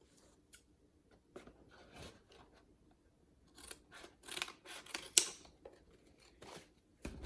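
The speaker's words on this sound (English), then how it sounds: "I'm going to cut right here." Scissors snipping through filter material for a no-sew N95 HEPA mask, with quiet close-up irregular cuts and rasping rubs that grow busier and louder toward the end, no talking.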